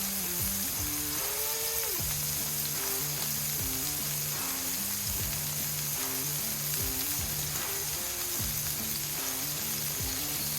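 Smash burgers sizzle steadily on a Monument griddle, a continuous loud frying hiss that runs the whole time beneath background music.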